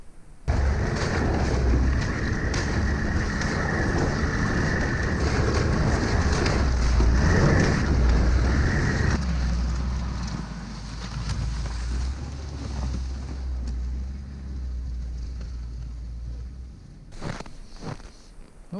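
A Ski-Doo Skandic snowmobile hauls two sleds across a lake. Its engine drones loud and close with rumbling and wind buffeting, eases to a lower roar partway through, and ends with a few knocks.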